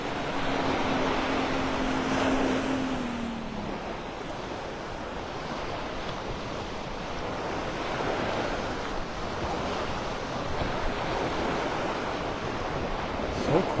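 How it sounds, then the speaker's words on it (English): Ocean surf rolls in steadily at Delnor-Wiggins beach in North Naples at sunset, with light wind noise. A continuous wash of waves runs throughout with no talking. "other than the sounds of the waves, a little bit of wind"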